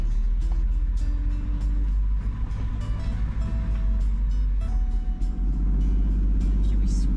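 A 4WD creeps down a very steep High Country track in Victoria with the brakes held hard, its engine giving a loud, steady low rumble and drone that fills the whole stretch.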